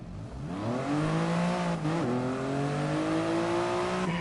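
Toyota Yaris GR engine in GT Sport, a continuous close revving drone that climbs in pitch, drops briefly at a gear change, then climbs and holds steady, with no talking.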